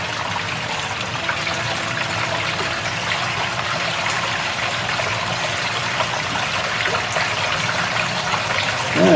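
Water runs steadily through a gold sluice box used to process fine flour gold, a continuous close rushing and trickling flow with no pauses and no voices.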